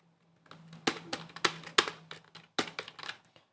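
Fingers type Java code on a computer keyboard, a close, crisp run of individual key clicks in short uneven clusters, with no talking.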